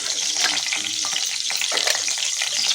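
Mustard seeds and oil fry in a hot pan while making ottu shavige, giving a steady, loud, close sizzle with crackling pops throughout and no talk.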